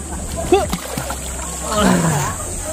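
A Tecno Camon 40 phone is dunked into water during a water test, with a sudden splash followed by sloshing and gurgling, close and fairly loud, while a voice talks over it.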